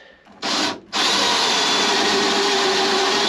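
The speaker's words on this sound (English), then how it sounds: "spot weld drill bits." Spot weld drill bit cutting out spot welds on an old Ford Galaxie XL body panel: a brief high whine, a short pause, then a steady loud grinding drill tone held close up.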